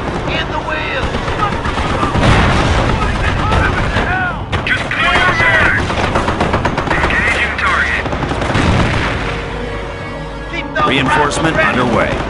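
Dense game battle noise as German forces pound a base: overlapping gunfire bursts and machine-gun rattle mixed with heavy artillery thumps, loud and continuous throughout, with voices and unit callouts woven through the din.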